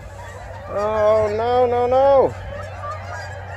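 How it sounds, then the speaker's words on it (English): A single long, nasal Canada goose honk rings out close by and holds steady for over a second before breaking off, with a brief spoken exclamation nearby. "there's a lot of wildlife, a lot of Canada geese. Actually, here comes some now."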